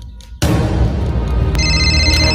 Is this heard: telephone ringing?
yes